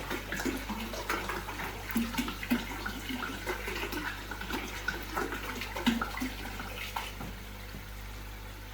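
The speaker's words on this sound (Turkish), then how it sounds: "suyu ekliyorum tekrardan ilave ediyorum kaynamış suyu" Boiled water is poured into a container during treatment for white spot on oscar fish. It makes a continuous, faint splashing and trickling with gurgling bubbles, close by and with no talk.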